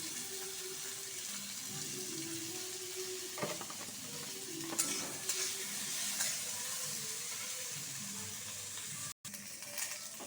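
Chopped tomatoes frying in a pan with panch phoron spices, a steady close sizzle with occasional stirring scrapes and clinks throughout.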